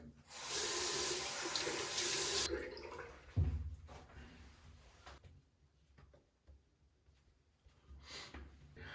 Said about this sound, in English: I'm gonna wash off my face mask.